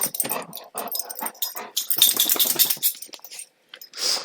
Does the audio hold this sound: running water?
no